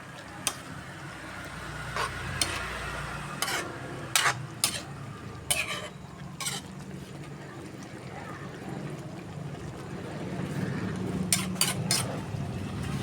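Ground beef and potatoes sizzle in a frying pan under a low, steady hiss as they are flipped, with scattered sharp clinks and scrapes of a utensil against the pan.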